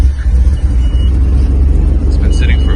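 A Nissan GTR that has sat unused for a few days idles steadily after start-up, a deep, continuous low rumble heard alone and fairly close throughout.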